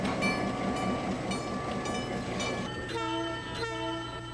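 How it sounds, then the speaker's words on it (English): An old box cab electric locomotive rumbles past with a steady mechanical roar, and a sustained horn-like tone rises clearly in its final seconds. "Here is a very old box cab electric."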